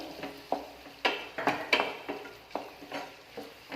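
Onions stirred with sauce in a pan for a chilli chicken gravy, a series of close, sharp spatula scrapes and clinks against the pan in an uneven rhythm over a faint sizzle, no voices.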